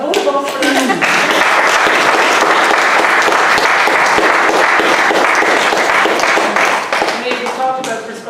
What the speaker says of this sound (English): You deserve a whole applause for that.